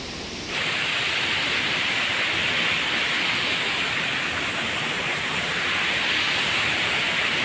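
Badalgiri waterfall near Rourkela sends up a steady, loud broadband rush of falling water that holds without a break, joining after a brief quieter start.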